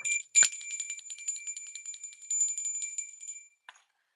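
A little bell rung again and again, bright sustained chiming with several quick strikes over about three seconds, then a brief final tap before falling silent; no voices.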